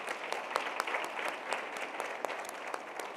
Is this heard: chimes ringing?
no